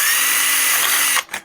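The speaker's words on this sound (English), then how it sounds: "Drill a bigger hole." A power drill whirs loudly and steadily while boring holes into a door, a continuous high whine that cuts off abruptly near the end with a short trailing spin-down.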